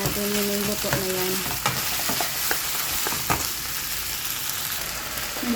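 Onions frying in a pan give a continuous close sizzle with occasional scraping stirs and light knocks of a utensil; a faint tonal beep sounds early on.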